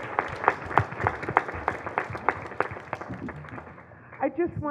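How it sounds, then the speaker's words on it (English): A modest audience at a civic community gathering claps for a man, with individual claps standing out in a loose, rhythmic patter that thins and fades near the end as a voice begins speaking. "If you guys give him a big round of applause."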